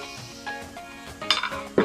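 Crepe batter is stirred and ladled in a bowl, giving soft scraping and stirring followed by a few sharp metallic clinks of the ladle against the bowl, close by and without talk.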